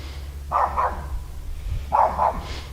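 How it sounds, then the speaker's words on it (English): A dog barks in two quick double bursts about a second apart, moderately close and clear over a steady low hum, with no voices over the barking. "What is he barking at? He's barking at our chickens?"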